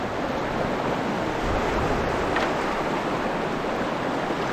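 A creek's water rushes and churns steadily around legs wading upstream through a tough stretch, a dense close hiss with no voices.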